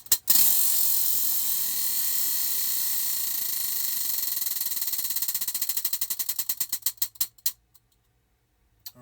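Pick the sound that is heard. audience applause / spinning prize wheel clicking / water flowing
spinning prize wheel clicking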